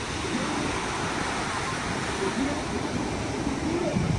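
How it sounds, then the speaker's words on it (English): Ocean waves breaking on a Santa Monica beach make a steady, loud wash of surf that runs without pause, and no voices stand out above it. "Just the sounds, listening to the waves"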